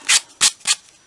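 A popsicle-stick miniature quilt rack has its corners rounded by rubbing, giving three close, scratchy rasping strokes in an even rhythm, alone without talk.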